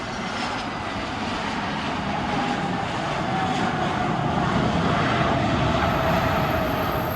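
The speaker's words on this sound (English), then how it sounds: "Now let's take a flight to Portugal and land at one of the most dangerous airports in the world" Airliner engines roar steadily while the plane lands at Cristiano Ronaldo Airport in Portugal, a broad continuous drone holding near and loud throughout, with no voices.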